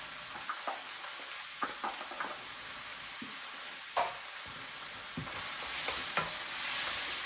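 Carrots are stir-fried in a pan for UK takeaway-style chicken fried rice: a constant sizzle broken by scraping stirring strokes and light clinks, growing brighter and louder near the end.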